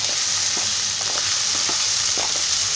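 Chopped tomatoes frying with onions in oil, a loud, dense, continuous sizzle with soft stirring knocks scattered through it.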